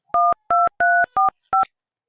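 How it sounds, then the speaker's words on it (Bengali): A telephone keypad sounds five loud dual-tone dialing beeps, short and fairly evenly spaced, with nothing else heard. "দাঁড়া দেখি একটা ফোন লাগাই দি।"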